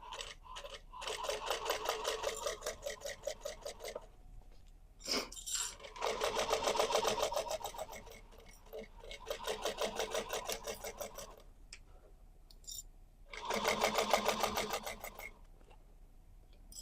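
A sewing machine stitches a bag seam and back stitches at the end, running in several bursts of steady rapid needle clatter separated by short pauses and small handling clicks, close and moderately loud with no talking.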